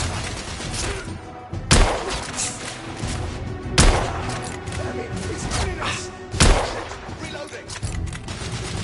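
In a video game firefight, a steady roar of gunfire and battle noise runs throughout, broken by three heavy booming blasts spaced a couple of seconds apart, loud and close.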